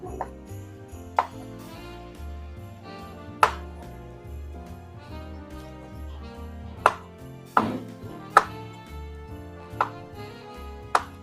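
A knife chops food for potato and macaroni salad, giving a handful of sharp, isolated strikes spaced irregularly over steady background music.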